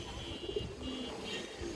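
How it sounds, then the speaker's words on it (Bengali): A lively pigeon, a cross of Bengali bagha and beji breeds, coos softly in a few low, rounded calls, faint and close against light background hiss. "এই দেখেন আপনারা এটা একটা বেজি ল্যান্ডের কবুতর"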